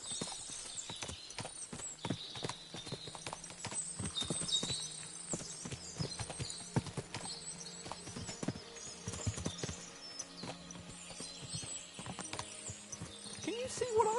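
Many horse hooves in the video game Kingdom Come Deliverance 2 clip-clop in a busy, overlapping patter, with a horse whinnying faintly amid the steady clatter.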